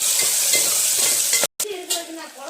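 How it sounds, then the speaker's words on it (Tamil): Chopped onions sautéing in oil inside a pressure cooker for a soya chunk curry, a steady close hiss and sizzle with light stirring scrapes, broken by a brief dropout midway before the frying resumes. "அடுத்ததாக 2 பெரிய வெங்காயம் குட்டி குட்டியாக கட் பண்ணி வச்சுருக்கேன், அதையும் இது கூட சேர்த்து வதக்கிக்கலாம்"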